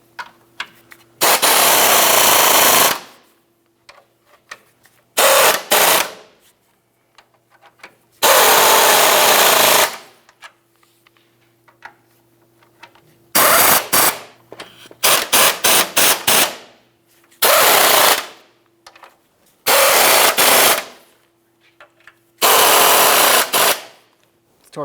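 A power tool works the 15mm headed bolts of a steering rack on a 2002-2009 Chevrolet Trailblazer, heard as repeated loud, close bursts of whirring and rattling lasting a second or two each, separated by quiet gaps.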